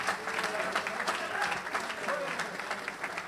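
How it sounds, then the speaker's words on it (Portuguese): Congregation applause at a regional pastors' meeting in Clevelândia, Paraná: a quiet, steady patter of many hands clapping with faint voices mixed in, sustained throughout. "Vamos aplaudir Jesus e vamos para casa."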